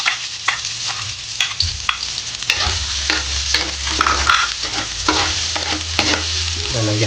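Onion frying in oil right after garlic has turned golden brown for a radish and carrot sauté, with loud crackling sizzle and repeated spatula scrapes stirring the pan close up, no voices.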